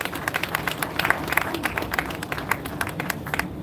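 Audience at a press freedom day honors night in a hotel gives a round of applause, a moderately quiet, dense patter of many hands with some crowd murmur beneath.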